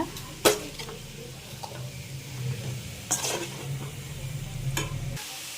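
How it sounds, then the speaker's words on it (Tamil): Green gram (payaru) kootu being sautéed and stirred in a pan on low flame: a soft, steady sizzle with occasional scrapes and light clinks of the spoon against the pan. "கொஞ்சம் ஃப்ளேமை லோவாக வச்சு வதக்குங்க."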